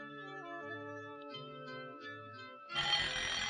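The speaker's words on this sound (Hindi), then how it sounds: "दाऊद साहब के सोने का अलार्म बज गया और ये लाट साहब अभी तक आए नहीं।" An alarm clock rings with a steady, melodic electronic ringtone pattern, moderately loud and alone, giving way to a burst of hiss near the end.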